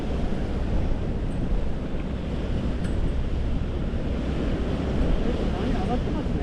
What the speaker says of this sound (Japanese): 波上がってますね。